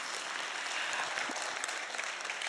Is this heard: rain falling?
no